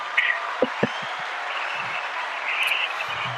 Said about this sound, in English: That's more applause than I've ever gotten, by the way, what you just played there